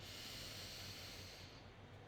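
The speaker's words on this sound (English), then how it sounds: "Breathing in through the nose" A long, steady airy inhale through the nose, soft and close, with a broad hiss that fades slightly toward the end.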